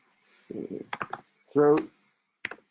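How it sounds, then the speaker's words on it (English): A few scattered keystrokes tap on a computer keyboard, close and sparse, with a short burst of voice in between. "I'm just going to type in throat"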